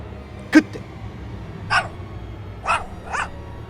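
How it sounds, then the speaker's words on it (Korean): A pet dog named Maru barks from inside a home, near a veranda: a sharp bark followed by three further scattered yips and barks, fairly faint over a low background hum. "저희 집 강아지 마루의 소리가 들렸습니다"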